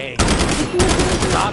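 Rapid automatic gunfire in a shooter video game, a loud dense burst that pauses briefly and then resumes, close and continuous.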